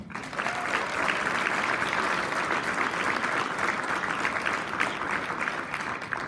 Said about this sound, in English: Go ahead and clap for those ladies.